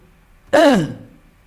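A single short, throaty cough bursts out and trails off quickly into quiet.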